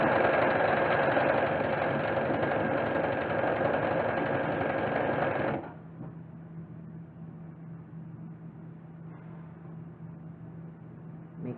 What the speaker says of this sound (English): I'm just going to go in and sew it. Make sure it runs along each seam here.